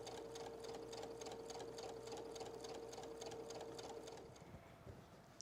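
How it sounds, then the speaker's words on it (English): Sewing machine running steadily while stitching a quarter-inch seam in fabric for a fall quilted table runner, a close, continuous rapid needle rhythm with a whining motor tone that stops near the end, no talking. "So I'm just going to start sewing my 1/4-inch seam here."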